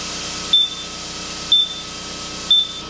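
A Nitrofill E-160 nitrogen tire-filling machine beeps three times, short electronic beeps spaced about a second apart over a steady low hum.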